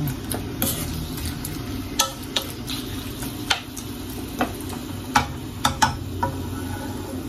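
Bicol Express stirred in a pan, with a steady low sizzle under repeated sharp scrapes and clinks of a utensil against the pan at irregular intervals, close and fairly quiet, no talk.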